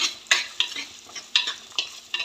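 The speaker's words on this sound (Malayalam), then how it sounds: "അപ്പോൾ വെളുത്തുള്ളി ഇട്ടിട്ടുണ്ട്. നല്ലപോലെ ഒന്ന് മൂത്ത് വരണം." Garlic frying in a pan for a spicy mango dish, with a steady soft sizzle broken by several sharp scraping stir strokes, close and without speech.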